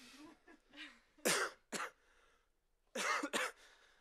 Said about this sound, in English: I don't want to cough too much